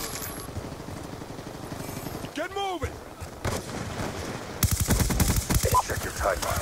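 PDW submachine gun fire in the Black Ops 2 video game: rapid bursts of automatic shots, loud and close, mixed with other game effects and a sweeping whine partway through.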